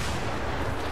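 A flashbang grenade goes off in the Star Wars Battlefront video game, a dense, loud, continuous burst of noise that fills the whole short moment without any voice.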